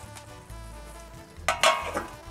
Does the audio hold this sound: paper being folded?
no